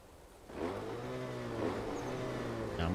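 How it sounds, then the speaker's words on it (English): Model airplane engines in a balsa model flight sim video game start up and rise into a steady buzzing drone after a brief quiet moment, holding fairly loud and even for a few seconds. "the engines should kick more right this time"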